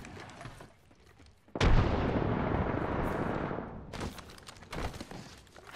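Frag grenade detonation in Apex Legends: one sudden, heavy blast that roars and rumbles for a couple of seconds before fading, followed by scattered sharp gunshot-like pops in the distance.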